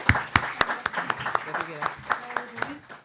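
An audience welcomes a speaker at a Puerto Rican poetry event with a short burst of applause, sharp separate claps mixed with low voices and murmur.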